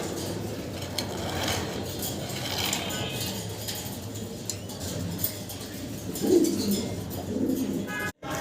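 Soft cooing from Mundian pigeons, low murmuring calls scattered through the clip with a louder burst near the end, over a busy background and faint voices.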